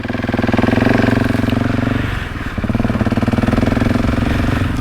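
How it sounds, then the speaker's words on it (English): A Husqvarna 701 Enduro single-cylinder motorcycle engine runs steadily nearby, its single thumping firing pulses loud and even, with a brief dip in the middle before settling back into the same rhythm. "That is a super cool sound, and you can hear that single firing away."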